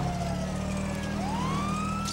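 A police car siren wails in GTA V, a single rising and falling tone heard at moderate distance over steady engine and traffic rumble.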